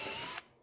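A power drill pre-drills screw holes for Blum hinges on a cabinet door, giving a brief close whir that cuts off abruptly, followed by a faint mechanical click.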